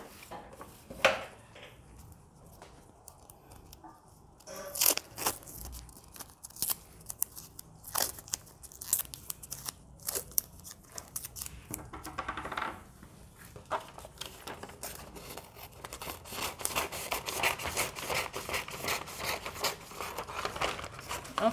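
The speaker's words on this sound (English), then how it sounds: "So I also cut out the back." Scissors snip through dress fabric while pieces are cut out for a gored dress, giving irregular crisp clicks and crinkling rustles with short pauses in between, close and fairly quiet, and no voices.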